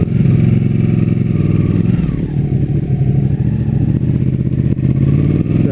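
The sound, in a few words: Ducati 959 Panigale motorcycle engine in race mode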